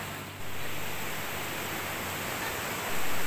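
River water flowing steadily beside a rural restaurant, a broad continuous rushing wash with no breaks, fairly close and even in level, slightly louder toward the end, no voices.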